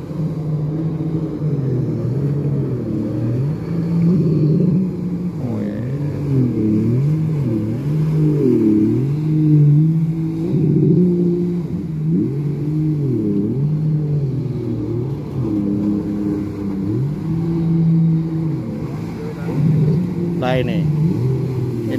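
A speedboat off a Red Sea beach revs its engine with a loud, throbbing rise and fall in pitch, repeating surges, while someone talks over it.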